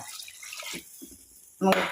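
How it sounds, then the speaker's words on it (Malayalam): Water is poured into a cobia (modha) fish curry in the pan, starting as a few quiet drips and then a sudden brief splashing gush near the end, with a voice talking alongside. "അപ്പോൾ അതാ ഞാൻ ആവശ്യത്തിന് അങ്ങ് വെള്ളം ഒഴിച്ചു കൊടുക്കുക കേട്ടോ"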